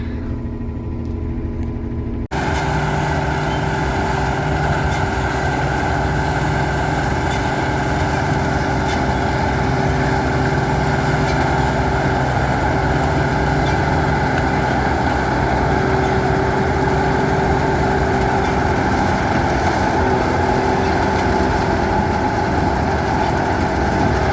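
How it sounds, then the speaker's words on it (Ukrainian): A Claas Mega combine fitted with a John Deere flex header harvests soybeans, its engine droning loud and steady for the whole stretch with a constant mechanical whine, no voices heard. "ділянка працює жатка флекс."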